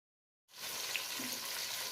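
Tomatoes drop into softened onions in a hot frying pan for a kaleji curry, setting off a steady, close sizzle and frying hiss that starts abruptly and holds evenly throughout.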